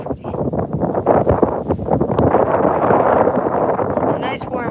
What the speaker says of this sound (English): It's a nice warm wind too.